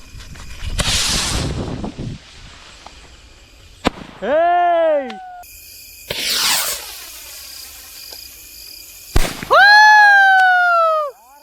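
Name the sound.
orange sky shot rocket firework launching and exploding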